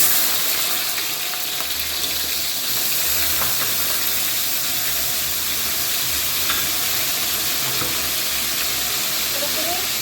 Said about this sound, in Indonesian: Ini sekarang kita goreng cabenya.